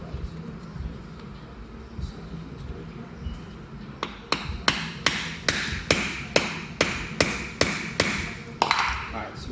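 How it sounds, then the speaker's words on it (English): Hammer striking a screwdriver to drive it back into a trolley motor of a Washworld in-bay car wash, about a dozen sharp metallic blows at a steady rhythm after a quiet stretch of low background hum. "we just need to pound this screwdriver back into the"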